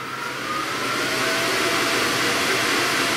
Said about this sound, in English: when we turn this on, it sounds like a jet engine